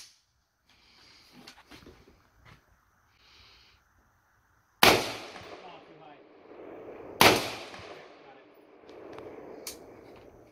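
Two sharp, loud shotgun blasts of modern military ammunition ring out a few seconds apart at an outdoor range, each with a long echoing tail, after quieter handling noises and faint voices.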